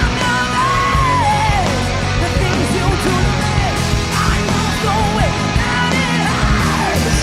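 A rock singer screaming as she sings, a loud raw yelling voice soaring and bending over dense, driving band music with heavy drums.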